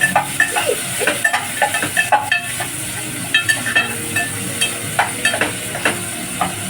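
Onion fries in a pan for a peas rice dish, with a bright continuous sizzle broken by repeated scraping and clattering strokes of a spoon stirring against the metal.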